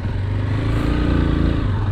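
A 2023 AKT TTR 200 dirt bike engine runs steadily on an off-road trail, a close, continuous low drone with a rough rumbling texture and no talking.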